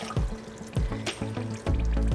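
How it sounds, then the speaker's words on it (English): A cup of water being poured into a pan while making lemonade syrup, with close trickling and splashing broken up by a few distinct pulses of pouring. "1 cup of water. Just pour that in,"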